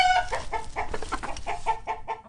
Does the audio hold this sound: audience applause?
no